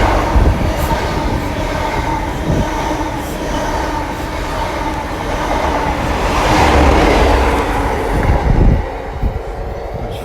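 A CrossCountry HST with class 43 power cars at each end passes at close range, a loud steady roar of wheels and engines with rhythmic rail clatter and a brief squeal, sustained throughout.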